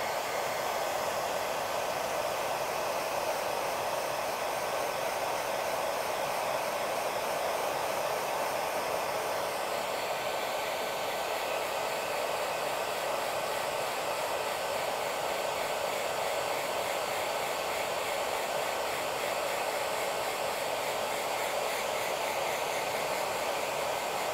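A hair dryer blows steadily over wet orange paint on a painting, a close, loud, even whoosh that runs unbroken throughout.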